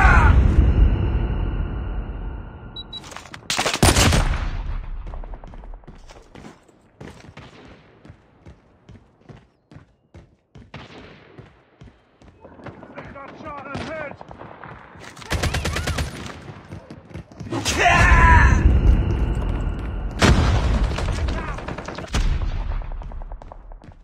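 Rapid bursts of gunfire from a Call of Duty ranked team deathmatch, with loud volleys early and late and sparser single shots in between, set against game effects and faint voices.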